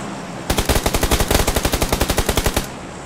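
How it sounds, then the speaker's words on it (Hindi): Automatic machine-gun fire from the video game PUBG Lite rattles out in one sustained burst of roughly twenty rapid, evenly spaced shots, loud and near, before stopping abruptly. "ओए अब गोली चली,"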